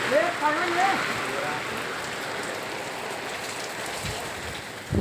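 Steady rain patters on a surface, a dense continuous hiss with faint voices in the background.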